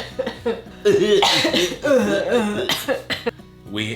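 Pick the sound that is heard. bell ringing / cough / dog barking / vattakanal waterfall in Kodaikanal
cough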